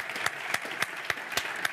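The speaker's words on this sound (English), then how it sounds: "join me in an applause for this wonderful panel" Audience applause for a panel at a hydrogen industry conference, a soft spread of clapping with a few sharper, evenly spaced claps standing out above the background patter.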